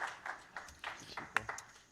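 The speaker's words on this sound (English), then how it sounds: "A tepid round of applause" At a poker final table in a casino, a sparse round of applause comes through as scattered claps at a moderate distance while a commentator talks over it.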